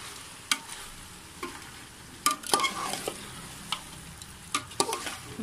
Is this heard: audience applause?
no